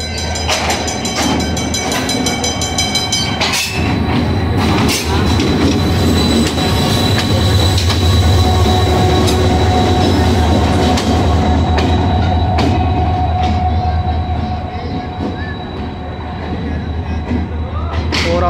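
The Karakoram Express train at a busy railway station platform, rumbling and clattering steadily with squealing wheels and a high metallic whine, loud and close, with voices faintly heard over it.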